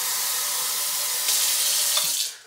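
Water runs steadily from a kitchen tap, a close, bright hiss that swells slightly midway, then cuts off as the flow stops.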